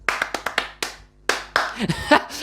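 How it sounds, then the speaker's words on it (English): Clapping in the racing game Project Cars 2, a series of sharp separate claps in an irregular rhythm, close and crisp, with someone speaking over the latter part. "So they are just applauding us"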